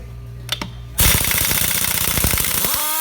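A power tool, switched into reverse, loosens a vehicle wheel in a loud rapid hammering burst that starts after a brief lull and rattles on steadily to the end.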